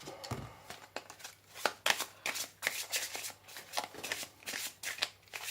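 Lenormand cards being shuffled by hand in steady, quiet riffling bursts at close range, with a brief rustle at the start and no talk over it.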